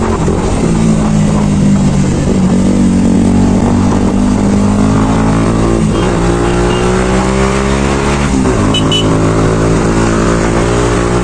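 A motorcycle rides through traffic, its engine loud and close throughout, revving up and easing off repeatedly amid surrounding road noise.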